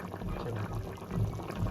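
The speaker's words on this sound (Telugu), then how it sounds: "బాగా ఉడుకుతుందండి" Pumpkin curry bubbling in a pot, a soft, quiet, steady simmer with low gurgles and small pops throughout.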